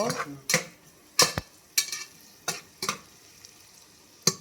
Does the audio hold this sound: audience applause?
no